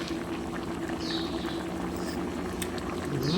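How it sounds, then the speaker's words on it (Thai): A pot of striped catfish curry simmers on the stove, a steady close bubbling with small pops and hissing, no talking. "เราก็เคี่ยวไปอีกนิดนึงให้ปลาสุกดีนะคะ"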